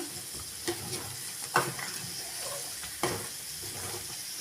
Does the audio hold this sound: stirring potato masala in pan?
yes